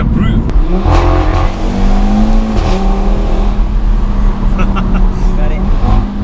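Audi RS3 engine pulling hard under acceleration in a straight line, a loud rising drone with rasping exhaust heard from inside, with people talking over it.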